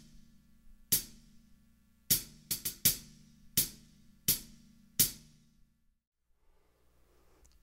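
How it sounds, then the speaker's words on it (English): A hi-hat struck with the shoulder of a drumstick on its edge gives chunky, thick hits. There are about eight hits, some in quick pairs, each with a bright wash that decays, played alone and close. "you have the shoulder of the stick hitting into the side or the flat of the hi-hat to create sort of a chunky, thick sound"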